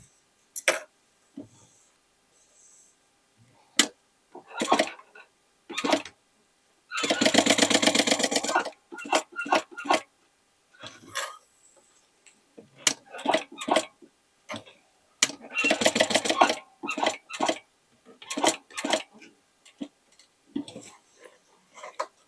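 Sewing machine stitching a make-up bag made from old jeans, running in two longer rapid bursts with shorter stitching runs and clicks in between, close and clear with near silence during the pauses.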